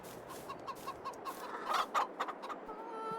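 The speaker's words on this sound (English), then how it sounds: "Our chickens are clucking away." Chickens on a farm cluck in a steady rhythmic run of short calls, rising to a louder burst of clucks midway and then tapering off.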